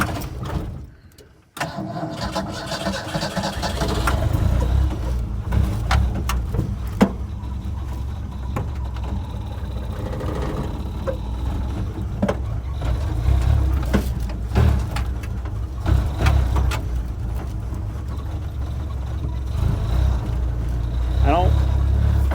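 A hoarded muscle car engine is cranked in second gear with the clutch stuck, giving a loud, rough, sustained mechanical churning under frequent talk.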